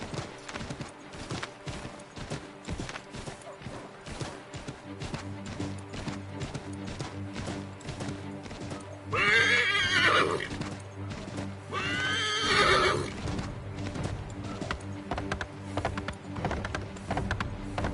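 Horse hooves clip-clop steadily in Assassin's Creed 3, with two loud whinnies breaking in midway over a continuous close rhythm of galloping.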